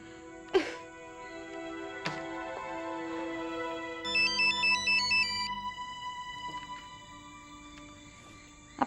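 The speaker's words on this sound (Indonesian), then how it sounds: "Aduh, angkat dong Ruth, teleponnya angkat, cepetan." A telephone ringtone plays a short electronic melody for about a second and a half, moderately loud against a quiet indoor background with a few scattered knocks.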